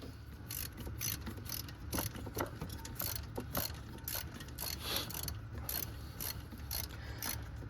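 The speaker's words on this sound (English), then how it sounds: "we're ratcheting here with the other hand and just slowly tightening this up." A hand ratchet clicks steadily on a 12 mm bolt, tensioning the drive belt on a 1996–2002 Toyota 4Runner, rapid close metallic ticks in an even rhythm throughout.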